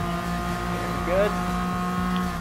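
A TVR Tuscan Speed 6 races in Gran Turismo Sport, with a steady engine drone sustained throughout and a brief rising whine partway through.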